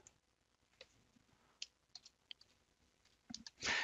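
Sparse clicks of a computer keyboard as Alt codes are entered, with scattered light taps that grow into a louder burst of keystrokes at the end, close by in a quiet room.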